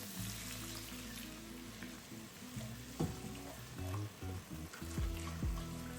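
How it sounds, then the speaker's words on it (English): Stock poured into a hot pan after browning chicken for smothered chicken and rice, raising a steady sizzle and bubbling with scraping and clanks over a low hum. "now I'm going to add our stock and just start to deglaze the bottom of this pan"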